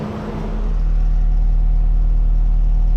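A sport bike engine fitted in a three-wheeler build starts and settles into a steady idle, a loud, close, even low rumble with a faint whir above it, holding constant after a brief rise.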